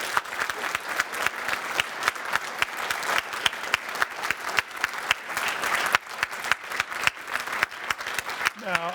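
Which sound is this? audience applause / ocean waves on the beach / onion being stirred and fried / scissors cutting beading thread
audience applause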